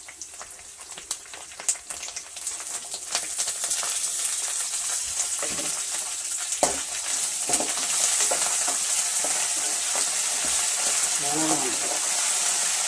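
Curry leaves and coriander sizzle in a frying pan, a dense steady hiss that swells as stirring scrapes and clacks break through, close by, with a voice briefly audible beneath near the end.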